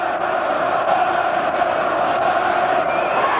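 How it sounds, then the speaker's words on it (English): A large crowd roars, chants and sings steadily in a big arena during a Benn versus McClellan boxing fight, a dense wall of voices without clear individual words. "Listen to this crowd, the chanting,"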